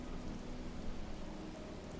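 Steady rain falling in the Zelda: Breath of the Wild video game, a constant dense hiss with a low rumbling undertone that holds even throughout, no voices.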